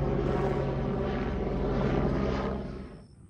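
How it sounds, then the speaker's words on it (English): Surveillance helicopter rotor thumping steadily overhead, a loud rhythmic chop that fades away toward the end. "Surveillance choppers now."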